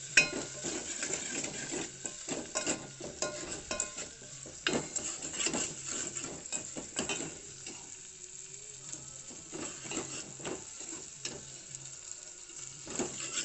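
Ginger garlic paste sizzles in tempering oil for tomato rasam, a busy close hiss broken by frequent spatula scrapes and clinks against the pan, with no talk.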